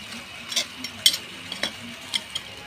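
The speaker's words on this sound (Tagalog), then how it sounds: "Sabay hahaluin natin ito." A spoon clinks and scrapes in a pan of spicy dish with chili, in a handful of sharp, separate taps over a soft sizzle, close and moderately quiet.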